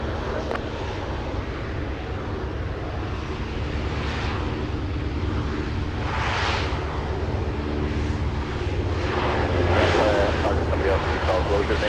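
A large airliner, likely a Boeing 747, touches down on runway 33 at Anchorage airport, a steady loud engine roar swelling near the end, with people talking over it.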